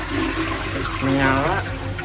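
A toilet flushes aboard the Argo Merbabu train: a short, loud, close rush of water, with a voice briefly heard over it.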